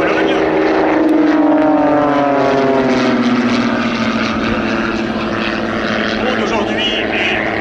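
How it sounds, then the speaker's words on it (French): At the 2022 Cambrai air show, a propeller aerobatic airplane roars loudly and continuously, its engine pitch sliding as it manoeuvres, while an announcer talks over it. "Elle est suivie par Aude Le Mordant, triple championne du monde de voltige aérienne"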